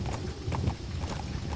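D-Horse's hooves clip-clop in Metal Gear Solid V: The Phantom Pain, a steady rhythmic trot of hoofbeats close by over low game ambience.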